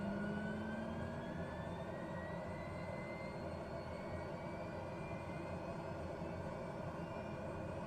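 A TBM turboprop engine at low idle in Microsoft Flight Simulator gives a steady whining hum with rising tonal whistles and constant broadband roar, heard alone and unchanging.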